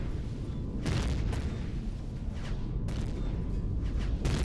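Repeated heavy booms from defensive gun turrets in the sci-fi survival game Empyrion Galactic Survival, set on a snowy planet, sounding as a dense, continuous low rumble with several sharper blasts, loud throughout with no talk.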